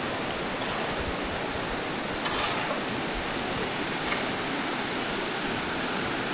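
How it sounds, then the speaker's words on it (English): A river flowing steadily at a remote site in the Philippines, a constant even hiss of rushing water, soft and unbroken throughout with no voices. "Constant sound of the river"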